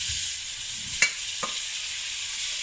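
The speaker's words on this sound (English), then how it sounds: "So, smoking hot pan. So now we're going to put in the beef." Beef for a spicy beef casserole hits a smoking hot pan and sizzles with a steady, bright hiss, broken by a couple of light clinks from stirring.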